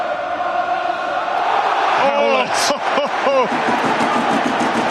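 Stadium crowd at a Munster v Sale rugby match, a broad roar of cheering and shouting swelling under a commentator's voice, with a few loud whoops rising out of the crowd.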